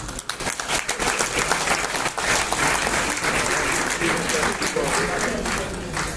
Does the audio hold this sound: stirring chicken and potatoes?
no